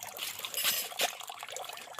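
Water trickles from a tap at a campsite in a thin, irregular stream, dribbling with small splashes that are faint and close.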